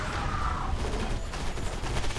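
Gunfire in the video game Area 51: dense, rapid volleys of shots rattling continuously at moderate level, with no talk over them.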